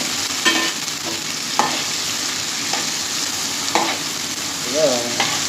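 Chicken curry frying with turmeric in a pan hisses in a steady sizzle, broken by regular scraping strokes of a spoon stirring the mixture, with no voices.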